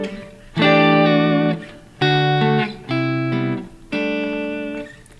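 Clean electric guitar tone through an Iridium amp simulator with a Fender Deluxe Reverb-style sound: four separate sustained chords, each strummed and left to ring before fading.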